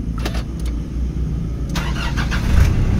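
A Nissan Terra engine cranks and fires up with its push-start button, after a few clicks and short starter sounds, then settles into a steady, close idle.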